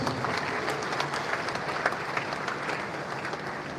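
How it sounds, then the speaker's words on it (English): A crowd claps steadily at a school speech and prize giving day ceremony, sustained applause of many hands at moderate loudness throughout. "He deserves another round of applause."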